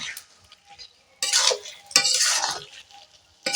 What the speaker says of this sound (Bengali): এবার এই মাংস দিয়ে আমি কষতে থাকবো